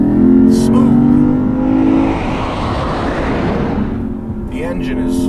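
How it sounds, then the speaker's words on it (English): A Lexus IS500 sports sedan's V8 engine revs hard and accelerates up close, a loud droning growl that swells into a broad roar, then settles back to a lower tone. "The engine is the right sound. Oh yes, that is the right sound."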